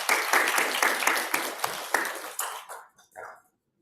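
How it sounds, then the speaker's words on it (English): Applause from the audience at the web.lab 2023 final ceremony, a dense burst of clapping with a few distinct loud claps that thins out and stops, then a brief voice. "huge round of applause for all the people there"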